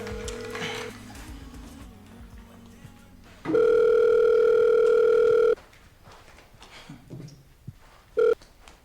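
A telephone rings with one long steady electronic tone lasting about two seconds, followed by a short second burst, loud against a quieter room background in a French-language African film scene.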